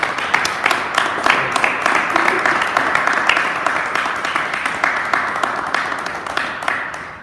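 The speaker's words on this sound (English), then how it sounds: "Round of applause." Applause from an audience at a military promotion and award ceremony, a sustained round of clapping with a clear, even rhythm of individual claps at moderate distance, lasting several seconds.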